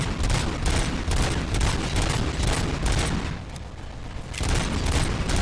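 Heavy gunfire rages in the video game RoboCop: Rogue City, dense bursts and booms packed close together for the whole stretch, briefly easing in the middle before swelling loud again.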